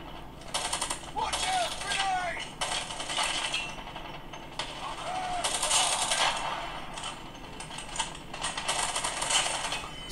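Rapid bursts of gunfire in a first-person shooting video game, running on a Positivo Q20 128GB tablet, come in several clustered volleys with short pauses between, fairly loud and mixed with game background noise.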